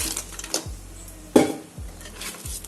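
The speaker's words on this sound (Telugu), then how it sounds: "ఇప్పుడు మనం ఆయిల్ వేసుకుని ఉప్పు పసుపు వేసి ఫ్రై చేసుకున్న ఈ పీతలను అయితే వేసుకోవాలి." Fried crabs go into a pan of oil with salt and turmeric, followed by a few sharp clanks of a utensil against the metal and soft stirring scrapes over a faint sizzle.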